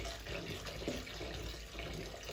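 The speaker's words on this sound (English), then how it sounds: "So I'm just running the mukene in cold water." Cold tap water runs steadily over small mukene silverfish being rinsed for a Ugandan recipe, a faint, continuous splashing wash with no talking.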